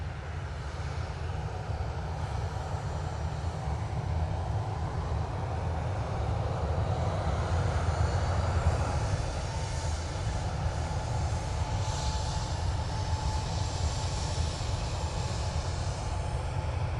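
Steady, even roar of a Ryanair airliner from Belfast arriving at Manchester Airport, a broad engine rumble holding at a constant level throughout with no voices.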